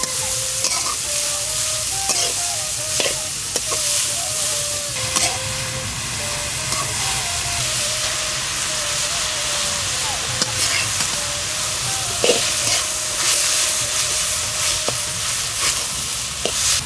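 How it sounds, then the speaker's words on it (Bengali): Vegetable stems stir-fry in a pan in a village kitchen, hissing steadily with frequent utensil clinks and scrapes. Faint tonal background sounds run underneath the close, continuous sizzle. "প্রথমে ডাটাটা আমি কিছুক্ষণ ভেজে নিচ্ছি, তারপরে বাদাম বাটা দিয়ে আবার ভাজতেছি।"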